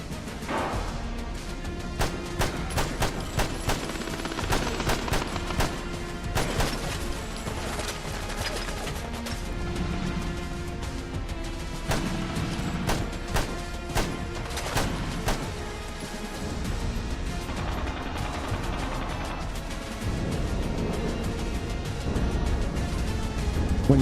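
Grenade explosions and gunfire in Fallout London crackle almost without pause: rapid, close sharp shots and heavy crashing blasts pile on each other over a loud, dense battle din.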